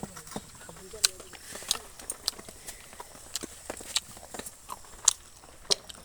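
Biting and chewing on fried, puffy round gulgula fritters, heard as a string of sharp, close crunchy bites spread irregularly through the clip against a quiet background.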